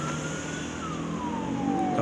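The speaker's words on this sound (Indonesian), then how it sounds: "mohon maaf ada ambulan dulu lewat" An ambulance siren passing on a road by a toll highway construction site, a loud wailing tone that slides downward as it goes by, over steady traffic rumble.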